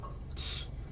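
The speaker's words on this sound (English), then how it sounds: "crickets." Crickets chirp in a steady high trill, faint and alone, during a rock album listening session.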